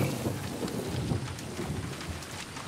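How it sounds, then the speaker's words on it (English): Rain and thunder in the video game Far Cry 6: steady hiss of falling rain with low rumbling underneath, moderately quiet and continuous, no voices. "Rain."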